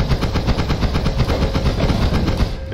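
Rapid, continuous automatic gunfire from the video game Noita, a dense rhythmic stream of shots over a low rumbling bed, steady and loud from start to finish.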